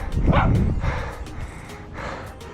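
A dog barks on a hillside lookout above Medellín, several loud rough barks in an irregular run close by, outdoors with wind and ambient noise behind.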